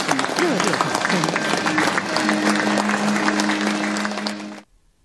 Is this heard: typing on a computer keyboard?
no